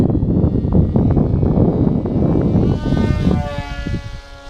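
A small FT22 radio-controlled foam airplane makes a slow pass at about one-third throttle, its electric motor and propeller giving a loud steady whine that shifts in pitch as it goes by and fades.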